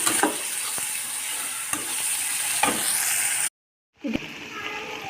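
Pangas fish frying with garlic and ginger paste in a pan, a steady close sizzle with stirring scrapes, cut by a brief silent gap before the sizzling resumes.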